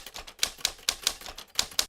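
Keys on a manual typewriter strike in a quick, uneven run of sharp clacks, about eight hits in two seconds, close and crisp against a quiet room.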